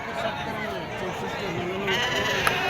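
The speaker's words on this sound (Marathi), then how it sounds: "बघा हे मेंढ्या अशा आहे त्या" Sheep bleat amid the crowd noise of a busy livestock market, with chatter and voices running throughout and a sharp bleat rising near the end.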